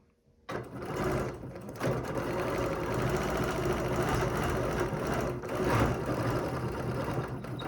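A sewing machine stitches a quilt in one steady, continuous run, close and fairly loud, with a slight pause near the start and brief dips in pace.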